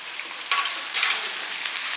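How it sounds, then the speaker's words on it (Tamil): Green beans and sliced onion sautéing together in a pan for rava khichdi, a bright steady sizzle with a couple of stirring surges, near and clear with no talk. "எல்லாம் ஒன்றா சேர்த்து நல்லா வதக்கிக்கலாம்"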